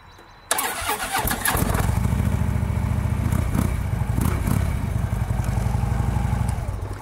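A Harley-Davidson Road Glide with a 103 engine and Reinhardt dual pipes starts up with a sudden crank and catch, then settles into a loud, deep, lumpy idle that rumbles steadily close by.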